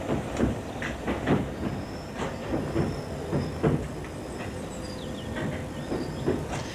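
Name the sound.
Edgware London Underground train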